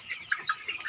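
Young laying-hen pullets cluck in a flock, giving short, soft, chirpy calls in a loose, uneven rhythm, close by with no voices over them.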